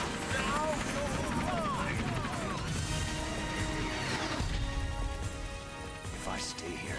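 A Hind D attack helicopter in Metal Gear Solid: The Twin Snakes on GameCube makes a steady, loud rotor roar mixed with rain-like hiss, while a voice talks over it.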